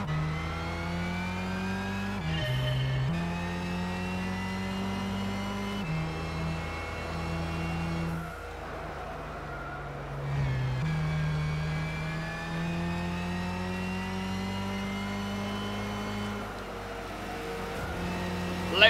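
Race cars in Gran Turismo 6 during the Like the Wind event, a loud sustained engine whine rising and falling through gear shifts, with a brief dip in the middle, no voices.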